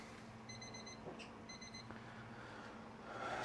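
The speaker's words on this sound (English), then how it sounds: "there's my timer" A brewing timer beeps during a SMASH beer brew day with Emerald Spire hops, two short bursts of rapid electronic beeps over a steady low hum, with a faint click between them.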